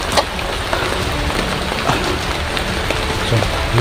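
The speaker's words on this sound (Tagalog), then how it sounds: "So, mga kadol, sobrang lakas pala ng ulan." Heavy downpour drumming steadily on surfaces outdoors, a dense continuous hiss with occasional louder drops and a faint low rumble underneath, no voices.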